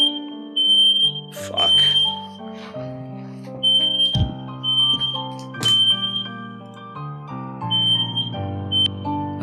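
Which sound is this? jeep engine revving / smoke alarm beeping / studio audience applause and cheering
smoke alarm beeping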